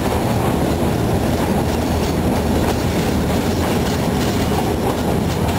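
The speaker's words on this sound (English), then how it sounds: "the loud noises that the train is making" Shimla toy train rumbling through a long tunnel, a loud, steady, dense roar of wheels and carriages with a continuous clickety-clack rhythm close around the listener.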